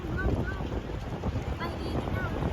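Wind buffeting a microphone on a bridge over the Mekong, a steady, rough roar with low gusty rumble and a few faint bird-like chirps.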